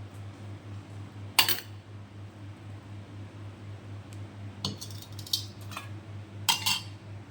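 Oil strains through a small sieve into a little bowl, with a few sharp metallic clinks of the strainer against the rim spaced over several seconds above a steady low hum.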